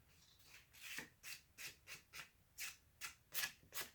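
Sandpaper is rubbed lightly over a chalky shed deer antler in about a dozen quick, even back-and-forth strokes. The rasping is soft and close, with no voices.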